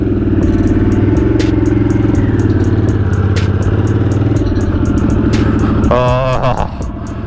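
A motorcycle ridden on a road after the rider's surgery, its engine a steady loud drone with a ticking, clattering rhythm throughout, easing off near the end with a brief higher tonal sound over it.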